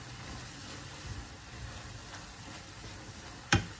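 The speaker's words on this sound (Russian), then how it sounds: "Жарим, пока не испарится весь яблочный сок." Apples in their own juice caramelizing with cinnamon in a pan while being stirred, as the juice cooks off, a soft steady sizzle with faint scraping and a sharp clatter near the end.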